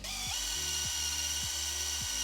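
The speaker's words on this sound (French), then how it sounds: "je vais utiliser une petite brosse métal et pour le tour également" A power tool with a small metal wire brush cleaning a car's front wheel hub during a brake disc and pad change: a steady high whine broken by four short bursts of grinding contact, close by.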